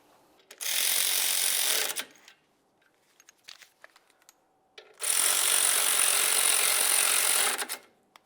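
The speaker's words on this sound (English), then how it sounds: "Install both of your caliper slider bolts, snug them up, torque them to 20 foot-pounds." Torque wrench ratcheting on caliper slider bolts of a 1998-2002 Lincoln Navigator, two long bursts of loud, fast clicking separated by quieter tool handling and light clinks.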